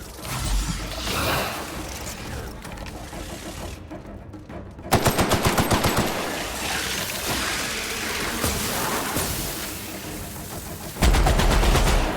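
Guns firing in The Outer Worlds video game: dense, loud bursts of rapid automatic gunfire rattle almost continuously, broken by one short gap, with mechanical clatter mixed in.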